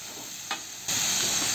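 Hot cooking oil sizzles and splatters as leftover lumpia, fried chicken and bihon are reheated in a pan. A brief pop comes first, then a sudden, steady hiss of frying.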